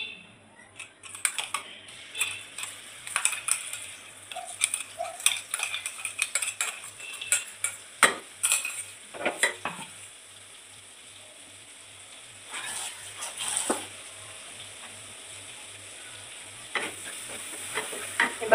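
Chilies are dropped into hot oil in a pan, sizzling steadily up close while a utensil clinks and scrapes against the metal, with the sizzle easing and swelling again toward the end.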